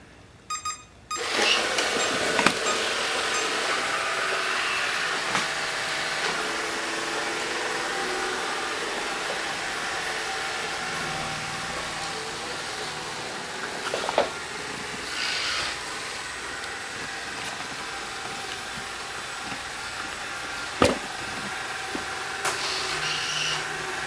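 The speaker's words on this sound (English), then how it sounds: "let me just press the clean button to get it started" Chuwi ILIFE V7 robot vacuum cleaner starts after a button press with a short beep, then runs with a steady loud motor whir and brush noise, with occasional bumps and clicks as it navigates.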